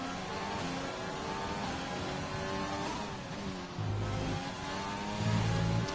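Formula 1 car engine in a racing video game held at full throttle, a continuous high-pitched whining roar with rising harmonics and brief gearshift steps, loud and alone.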